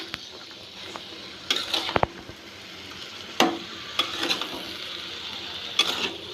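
Papaya bhaji sizzles softly in a pan while a utensil stirs it, with scattered scraping clicks and sharper knocks against the pan over a steady low frying hiss.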